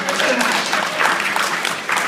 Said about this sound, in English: What's your round of applause?